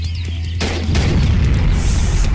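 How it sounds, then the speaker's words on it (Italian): A loud explosion in an indie PC video game: a sudden deep boom followed by a second blast, then a dense, sustained rumble with no talking. "Oddio, che esplosione."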